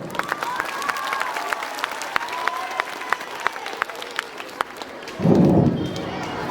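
An audience applauds to welcome the principal at a school Republic Day function. Dense, steady clapping fills about five seconds, and then a voice starts up close.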